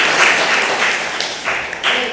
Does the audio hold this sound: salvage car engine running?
no